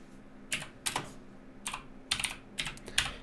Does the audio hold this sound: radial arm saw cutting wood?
no